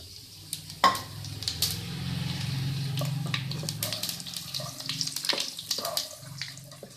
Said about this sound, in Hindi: तकरीबन 1 मिनट बस फ्राई करेंगे